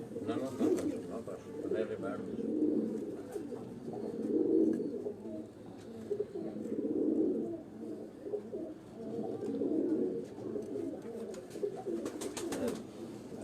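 Pigeons coo repeatedly at Ustad Ashiq Hussain's farmhouse in Sialkot, soft rolling calls rising and falling in a steady rhythm, close and fairly quiet, with a brief flutter or clatter near the end.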